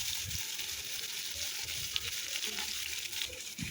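Chopped onion and black cumin seeds frying in hot oil, a steady close hissing sizzle that holds evenly throughout, with a few soft stirring knocks and no talking.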